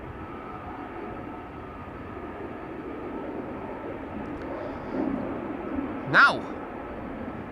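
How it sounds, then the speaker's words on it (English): A Delta Airbus A330 approaching at Amsterdam Schiphol Airport gives a steady, distant broadband roar that swells slightly, with a short spoken word near the end. "familiar contour and a familiar sound of an airplane coming this way. It is a Delta A330, flight 161 to Minneapolis"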